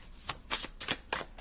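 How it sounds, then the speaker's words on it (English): A deck of tarot cards being shuffled: about five quick, crisp riffling bursts in even succession, close and fairly loud, with no talking. "Let me get this a quick shuffle, actually."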